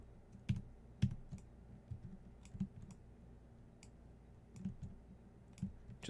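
Faint, sparse keyboard clicks and key presses, scattered irregularly with a few louder taps, recorded close against a quiet background.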